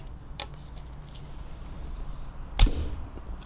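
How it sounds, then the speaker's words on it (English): One crisp, snappy arrow release from a new Keskin bow of over 30 pounds draw weight, near and fairly loud, after a faint earlier tick in a quiet setting. "And now finally I shoot the new one."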